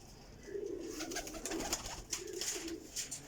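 A Salara pigeon coos softly in low, rolling bursts, fairly close but quiet, with faint ambient noise around it and no talk.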